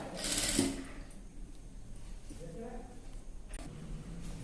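A sewing machine stitching piping onto a blouse neckline, a short busy whir early on, then a low, faint mechanical hum under continuous talking.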